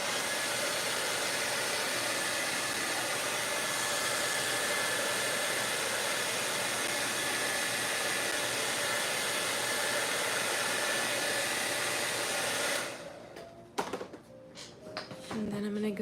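A hair dryer blows steadily on a layer of acrylic paint, a loud, unbroken rushing hiss that cuts off near the end, leaving faint handling clatter.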